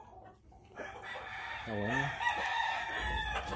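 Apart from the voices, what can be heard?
Clement rooster crowing at a game farm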